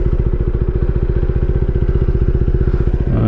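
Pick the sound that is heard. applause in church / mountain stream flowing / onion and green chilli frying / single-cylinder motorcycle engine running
single-cylinder motorcycle engine running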